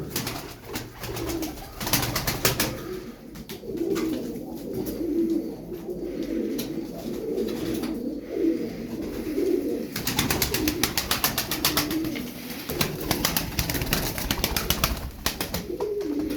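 Tumbler pigeons, Turkish performing birds kept in a flock, cooing repeatedly close by in soft, throaty rolling calls, with sharp clattering bursts like wing flaps and scuffling in the loft around them.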